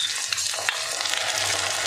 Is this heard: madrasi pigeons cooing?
no